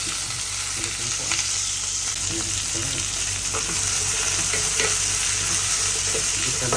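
Chicken bones sizzling and frying in oil in a pan, a steady close hiss with occasional stirring clinks and scrapes, no talking.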